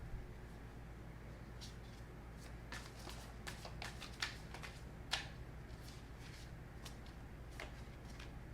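Tarot cards are shuffled by hand in a quiet room, a faint string of soft riffling flicks and light slaps that come in scattered bursts, with no voices.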